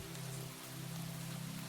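Soft, steady rain falls continuously, a faint even hiss of droplets with a low sustained hum beneath it and no voices.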